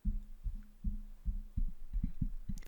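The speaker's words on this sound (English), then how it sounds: "If I'll tap the shock mount, it's gonna sound like this." Quick, muffled low thuds, about ten taps in a loose rhythm on a T.Bone SC 420 USB microphone's shock mount, each a short dull knock, close and fairly quiet with no voices.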